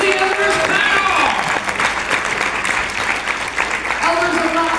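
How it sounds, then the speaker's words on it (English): Audience applauding an elders panel at a community event, a loud sustained roar of clapping from a crowd with voices calling out over it and a tonal whine running through parts of it. "let's give them a massive round of applause"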